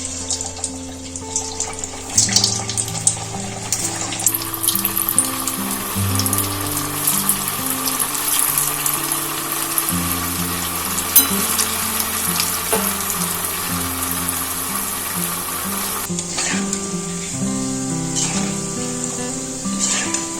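Flattened rice pitha made with sweet potato and mung dal deep-fry in hot oil, a continuous bubbling sizzle running under background music.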